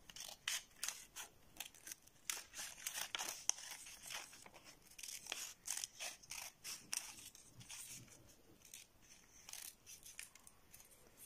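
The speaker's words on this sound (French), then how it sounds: "elle tourne la feuille pour aider les ciseaux à bien rester sur le trait" Scissors cut paper along a line with quiet, close snips repeated in an irregular rhythm, mixed with faint rustling as the sheet is turned.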